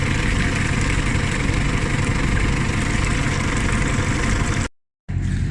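A Fortschritt ZT 303 tractor engine idling, a loud steady low rumble held close by, with a brief total dropout near the end before the drone resumes.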